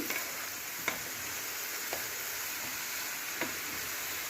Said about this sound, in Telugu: బాగా కలబెట్టేసి మిక్స్ చేసుకోవాలండి